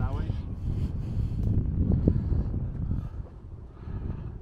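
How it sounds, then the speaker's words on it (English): Wind buffets the microphone outdoors in Bargoed, Wales, a steady low rumble with gusty swells throughout. "It's a little bit on the windy side now."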